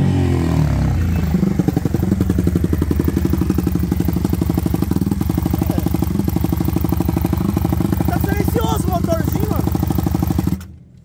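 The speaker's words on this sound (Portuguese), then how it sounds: "Vamos ver o giro desse motor" A 190cc motorcycle engine runs close by with a steady, dense throb and a mechanical clatter for about ten seconds, then cuts off abruptly at the end.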